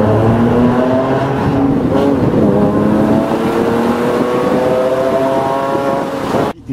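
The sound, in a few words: Porsche 997 Carrera with SCART exhaust in tunnel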